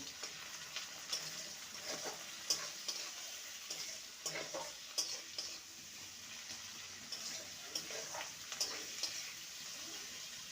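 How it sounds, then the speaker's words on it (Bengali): Chopped ginger and garlic sautéing with onion in a pan for a kudri dish, with a faint sizzle and soft irregular stirring scrapes. The sound is quiet and steady throughout. "সেই আদা রসুন চপ ভালো করে কষিয়ে নেব"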